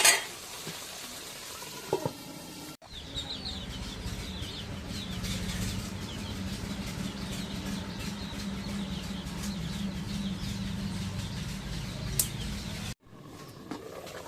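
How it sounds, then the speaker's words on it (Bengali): Broiler chicken meat braises in a covered pan with a steady, moderately loud sizzle and bubbling that runs for about ten seconds between brief quiet breaks, with no voices. "এখন মাংসটা কষানি হোক, ঢেকে দিই।"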